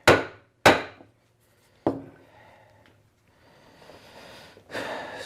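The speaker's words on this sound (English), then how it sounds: "And let me just pound a minute here." Sharp pounding blows while working a leather hinged top: three distinct hammer-like strikes close by, spaced unevenly, followed by quieter rustling and shuffling handling noise.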